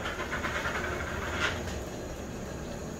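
Water for steaming grated coconut boils steadily at a low level, a soft continuous hiss and bubbling with no voices.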